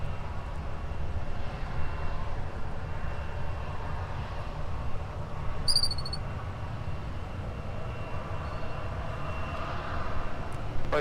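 Steady low roar of an Icelandair airplane at Minneapolis–Saint Paul airport, a continuous engine rumble held at an even level, with a brief high beep partway through.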